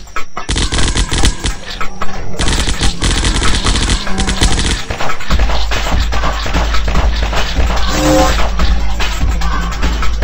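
Assault rifle gunfire in the zombie shooter game Zombocalypse: loud, sustained rapid bursts of automatic fire that run almost continuously, with brief gaps and heavy low rumble under the shots.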